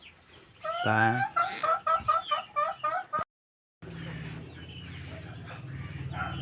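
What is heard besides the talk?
native Bisaya chickens clucking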